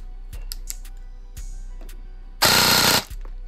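A short, fast full-auto burst from an airsoft gun cycling at about 31 rounds per second, a dense buzzing rattle lasting around half a second, set against quiet clicks and handling noise.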